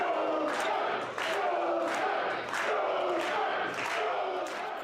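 Wrestling crowd at a Premier event cheering and chanting for Jackson Stone, a steady loud roar with rhythmic surges of voices, like repeated chants, sustained throughout.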